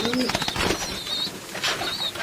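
Pigeons at a farm in Bangladesh coo in the morning, low repeated calls close by, mixed with brief wing rustles and thin higher chirps.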